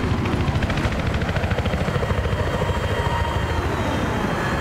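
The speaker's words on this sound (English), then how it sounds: "Plane's around back of us now." Aircraft engine noise roars steadily overhead in Battlefield 3, a loud pulsing drone from a passing jet plane close by, with no speech over it.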